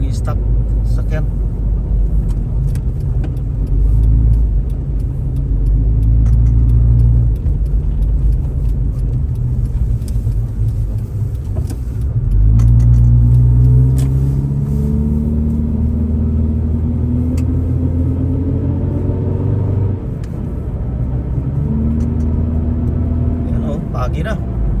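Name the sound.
car traffic in the snow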